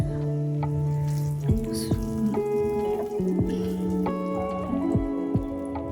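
Ghee is poured into a pan of sweet pongal, giving a soft dripping and sizzling texture up close under a steady background hum, with a few clinks.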